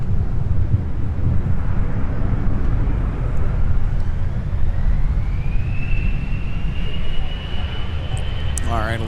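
An airliner departs from a runway at Minneapolis–Saint Paul airport, its steady roaring rumble heavy and continuous under gusting wind, with a rising whine building partway through.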